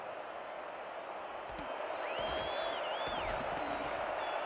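A crowd at a Baltimore at Charleston football game keeps up a steady, loud roar that swells slightly, with a brief rising whistle-like tone over the din.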